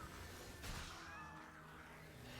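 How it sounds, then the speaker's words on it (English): Cats meowing in the PS4 video game MediEvil, a faint, drawn-out meow over a quiet game background, with a soft thump just before it. "That's why I heard cat sounds. It's just a bunch of cats."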